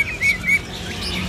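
Green leafbird (cucak hijau) at a kiosk in Pramuka bird market gives two short bright chirps early on, then falls quiet over low background market hum.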